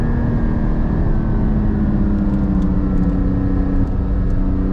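Porsche GT4 with a manual gearbox, engine and exhaust droning steadily from inside the car while driving, a constant loud hum with a slight dip near the end.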